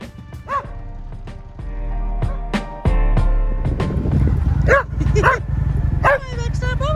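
Baxter, a small short-legged dog chasing a motorbike, yaps in sharp repeated barks over steady motorbike engine drone, with a person talking between barks.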